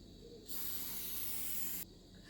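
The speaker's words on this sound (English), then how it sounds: "So I'm just going to start out by spraying all my pans." A single steady hiss of cooking spray coats baking pans for just over a second, close and clear against a quiet room.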